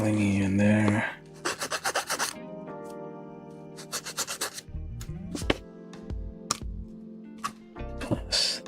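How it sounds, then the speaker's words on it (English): A file rasps at a small plastic part from a 1/35 Kotobukiya Border Break model kit, bursts of quick, close scraping strokes between pauses, with a brief voice at the start and light clicks of handling between. "Take A118, this thing, and I'll need some filing in there"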